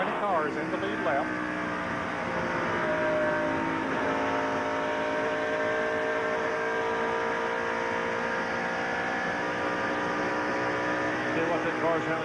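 Engines of NASCAR Winston Cup race cars at the 1992 Michigan 400 drone steadily from an onboard view, a continuous high whine with shifting pitch, with broadcast commentary talking over it.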